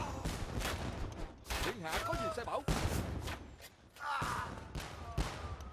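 Organ guns in Age of Empires II, multi-barreled gunpowder units firing in a team battle against Rattan archers, giving repeated crackling volleys in bursts over a busy mix of combat noise.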